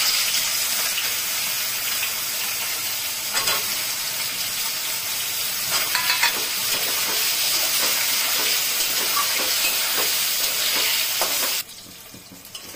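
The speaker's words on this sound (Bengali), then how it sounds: "বেগুনটা ভেজে নিচ্ছি" Thin eggplant slices frying in hot oil in a pan, a dense continuous close sizzle with occasional soft clinks of a utensil that cuts off abruptly near the end, no talking.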